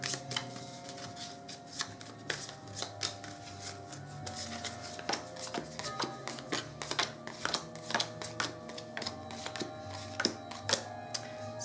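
A deck of game cards shuffled by hand close up, a long run of crisp riffling and snapping bursts repeating irregularly, alone without talk.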